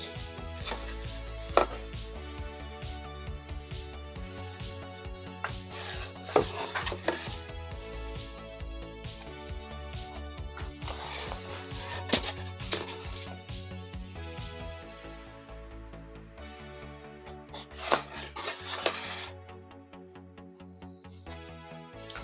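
Corners are cut off a foam block for a falcon diorama base, producing repeated close crunchy slicing and chopping strokes with occasional sharper knocks, uneven in rhythm and without talk.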